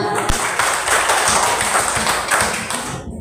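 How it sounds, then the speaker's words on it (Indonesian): An audience at a classroom teaching session claps hands together for about three seconds, a dense patter of many claps that fades out at the end, with a few brief voices mixed in. "Sebelum melanjutkan coba tepuk tangan dulu semuanya."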